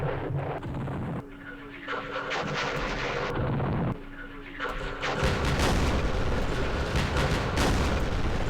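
Artillery barrages and gunfire in the Campaign Series East Front wargame, a Kursk battle scenario, with booming impacts and rumbling blasts that grow louder and denser toward the end, mixed with background game sounds.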